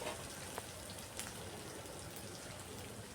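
Onion and garlic frying lightly in a pan while being stirred repeatedly, a faint, steady crackling sizzle like soft rain with occasional tiny pops, no talking over it.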